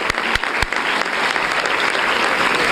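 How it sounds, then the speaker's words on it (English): Audience at a county school board meeting gives a round of applause, dense steady clapping filling the room for a few seconds with a few sharp claps near the start. "round of applause."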